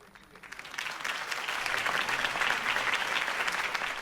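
A large crowd at a political campaign rally in a video game claps and cheers, applause swelling from quiet to a loud, sustained roar that continues steadily to the end.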